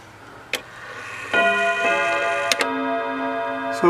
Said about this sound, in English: I'm going to run this down and you'll hear the cuckoo go off